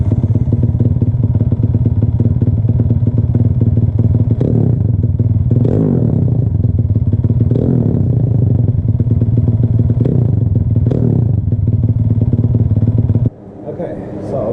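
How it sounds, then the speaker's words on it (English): A motorcycle engine idles steadily and close by after a carburetor swap, a smooth continuous drone with occasional clatters and thumps, then cuts abruptly near the end. "that idle is so much cleaner than the 32"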